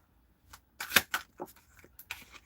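Tarot cards being shuffled by hand close up, a few quick crisp riffling bursts and soft slaps of card against card, separated by brief pauses, with no talking.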